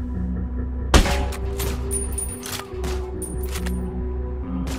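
Rifle gunfire in a video game shooting mission: one sharp loud shot, followed by several quieter, spaced cracks and clicks over a steady low hum.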